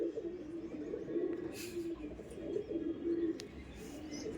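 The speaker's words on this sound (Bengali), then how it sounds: "এগুলো ধাড়ি পায়রা রোদে দেখাবে একটু" Adult Madrasi pigeons cooing in a low, steady stream of soft warbling coos, close by and continuous, with a few faint chirps over a quiet background.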